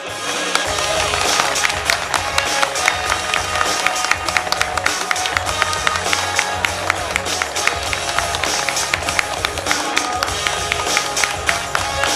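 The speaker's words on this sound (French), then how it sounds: "Faites un tonnerre d'applaudissements à Satine et ses danseuses" A crowd at an outdoor classic car show applauds loudly, a dense, sustained roar of clapping with sharp individual claps and crowd noise filling the whole stretch.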